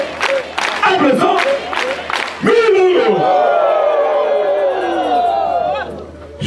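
Applause and cheering from a crowd at a church-style ceremony with jumelled festivities, a loud dense wash of clapping and shouting voices that swells sharply midway and holds steady to the end.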